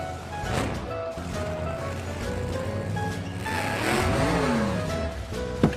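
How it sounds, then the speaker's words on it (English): A tiny car drives into a circus ring, its small engine revving and whining up and down in pitch at moderate distance, with crowd and ambient noise beneath and a short knock at the end. "A tiny little car drove into the ring."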